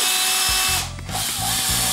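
A power drill drives screws to assemble a glued wooden console table, giving several short bursts of close, loud whirring with brief pauses between them and no talking.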